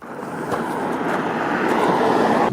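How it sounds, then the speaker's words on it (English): A steady broadband roar of an airplane passing overhead during a mountain hike, swelling slightly louder over a couple of seconds, with some wind rumble. "I can hear and see the plane above my head"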